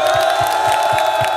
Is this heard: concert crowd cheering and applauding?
yes